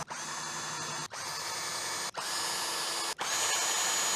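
Power driver running screws into a kayak crate, giving four short whirring bursts separated by brief pauses, close and fairly steady.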